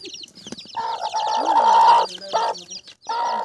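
Several hens and chicks cluck close by, a busy overlapping chorus of short calls and a sustained squawking note, with brief gaps between bursts.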